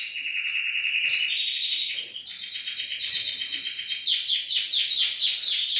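A female blue grosbeak (azulão) in an aviary gives repeated bright chirps and tweets, close and clear, in a continuous run of calls that turns choppier toward the end.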